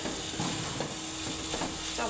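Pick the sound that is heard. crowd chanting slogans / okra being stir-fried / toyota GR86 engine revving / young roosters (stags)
okra being stir-fried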